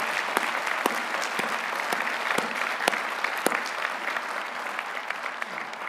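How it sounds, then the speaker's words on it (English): Applause from the audience at a university commencement ceremony, a steady wash of many hands clapping with a few sharper near claps standing out, sustained throughout. "let's give everyone a round of applause"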